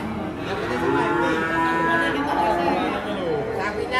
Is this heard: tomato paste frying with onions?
no